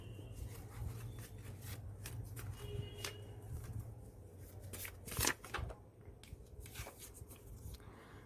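Tarot cards being shuffled and handled during a card reading, giving soft repeated riffling and rubbing sounds with occasional sharper flicks over a low steady background hum, fairly faint and close.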